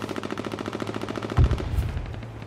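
Light machine gun fire in the battle royale game H1Z1 rattles out as a rapid, even burst of shots, followed by a couple of heavier booming impacts; loud and close with no voices over it.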